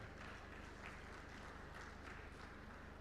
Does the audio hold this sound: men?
yes